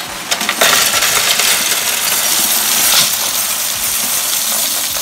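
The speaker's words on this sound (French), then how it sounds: "ce doux bruit des briques qui tombent" Plastic LEGO bricks pour and tumble continuously, a dense bright clattering rattle that starts abruptly and keeps going steadily, close and fairly loud.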